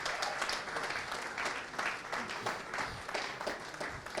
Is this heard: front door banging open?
no